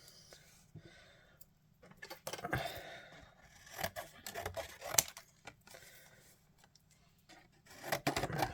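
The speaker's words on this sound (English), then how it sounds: "Oh, and now I've got to trim it down." Paper card is trimmed down for a stamping project, making quiet intermittent snips and cuts in bursts with soft rustling and handling noises between them.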